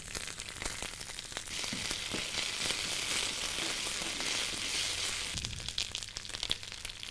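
Sliced green chilies and fresh ginger paste sizzle in hot tempering oil, a steady loud frying hiss that holds throughout with a few stirring clatters near the end.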